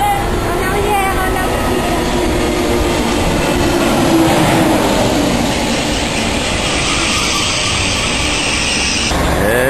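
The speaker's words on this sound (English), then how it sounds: "They go ooh and ah as the trains go flying by at 320 kilometers an hour." A French TGV high-speed train roars past close by at about 320 km/h, a loud sustained rushing rumble that holds steady and then cuts off near the end.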